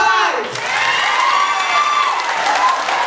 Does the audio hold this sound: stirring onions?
no